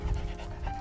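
A border collie pants rapidly and close by, quick rhythmic breaths with no talking.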